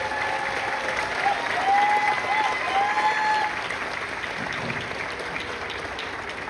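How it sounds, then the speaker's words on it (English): A crowd at a school graduation ceremony claps for the staff, a sustained, even roar of applause from many hands with a faint whistle rising briefly near the start. "So let's clap it up for the staff."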